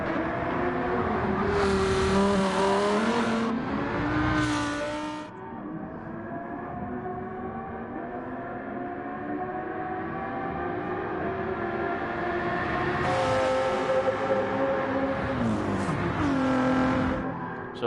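Race car engines on a qualifying lap at Le Mans in a racing video game, two cars running close together, their high revving whine rising and falling through gear changes, loud and continuous.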